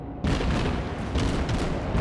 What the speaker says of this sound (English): I could listen to those guns for hours.